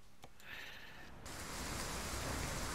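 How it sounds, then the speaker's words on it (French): Rain in the driving game Euro Truck Simulator 2 suddenly swells into a dense, steady rush of falling water after a brief quieter start with a faint tone, continuing loud to the end. "Oh, là qu'il pleut."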